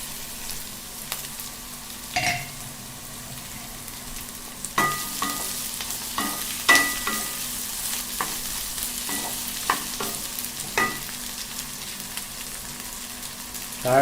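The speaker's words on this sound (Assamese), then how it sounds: "পিঁয়াজ আৰু জলকীয়া অলপ ফ্ৰাই হোৱাৰ পিছতে বিনছ আৰু আলুখিনি ইয়াতে দি দিম" French beans and potatoes frying with onion and chili in a pan, a continuous soft sizzle broken by repeated stirring scrapes and taps at an uneven pace, close by, with no talk.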